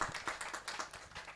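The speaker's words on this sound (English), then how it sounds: "A round of applause for" Audience applause at an executive panel dialogue on the future of electricity distribution in Nigeria: a short, fairly quiet patter of hand claps with a loose rhythm.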